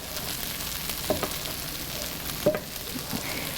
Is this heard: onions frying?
yes